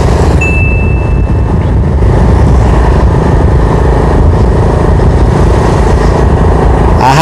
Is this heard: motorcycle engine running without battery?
yes